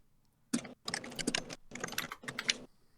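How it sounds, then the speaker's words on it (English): Someone types out song lyrics on a computer keyboard in quick bursts of clicking keystrokes that come in several clusters separated by short pauses, close and clear, with no speech. "He's typing out the lyrics, but not saying them."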